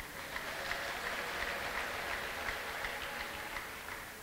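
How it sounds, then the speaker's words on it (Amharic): Church congregation clapping steadily in unison, a dense continuous patter of hands heard at a moderate distance, with no clear ululation standing out. "እልልታና ጭብጨባ።"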